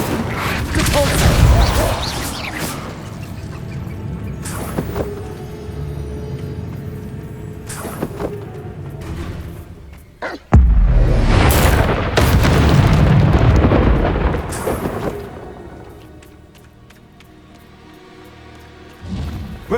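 Incendio fire spell cast in the game Hogwarts Legacy, a loud burst of fiery booms and whooshes amid other game effects and music, with a sudden heavy blast midway.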